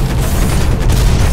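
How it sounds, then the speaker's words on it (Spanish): Gunfire from a mech in the Hawken online shooter, heard as a dense, continuous rumble of heavy booming shots that stays loud and close throughout. "no sé por qué le disparo"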